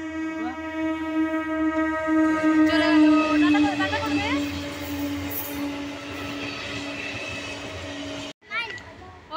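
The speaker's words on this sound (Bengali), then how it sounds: "ট্রেন আসছে।" A train approaches along a railway line near a fair. A steady rumbling drone carries sustained horn-like tones and grows rougher as it nears. It is moderately loud, then cuts off abruptly near the end.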